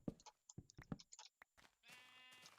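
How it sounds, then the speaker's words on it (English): Sheep bleating in the Minecraft video game: a few short bleats early on, then one sustained, buzzy, quavering bleat near the end, clean and fairly close with no talk. "Bah goes the sheep."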